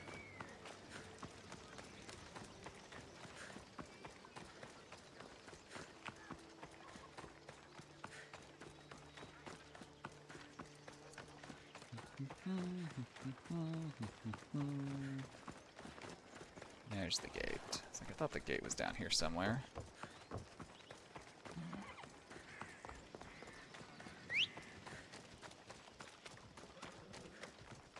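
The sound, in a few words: horse running in the video game Assassin's Creed Odyssey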